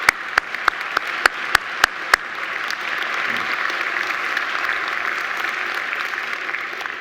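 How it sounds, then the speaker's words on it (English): Graduation ceremony crowd applauding Dr. Waters in a large hall, several sharp individual claps at the start then a sustained, even roar of clapping filling the space. "I think Dr. Waters deserves another great round of applause."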